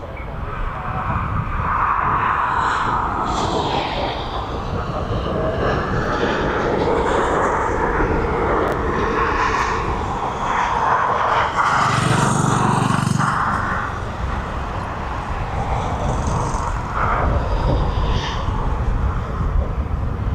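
A landing airliner at East Midlands Airport deploys its thrust reversers, producing a loud sustained jet roar that swells and holds for a long stretch, heard from outside at some distance.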